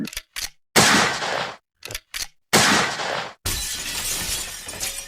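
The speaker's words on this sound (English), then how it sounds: "Let me get a couple of shots off to see how this rifle fires." Rifle gunshots in a 1974 radio drama, heard as several loud, harsh blasts. Some are short single cracks and others are longer sustained bursts, each with a noisy, ringing tail and brief silences between them.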